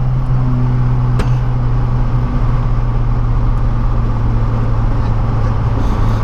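A carbureted 1.8-litre Opel Kadett with a straight, unmuffled exhaust holds a loud, steady engine drone under acceleration, close and constant, with one sharp pop near the start.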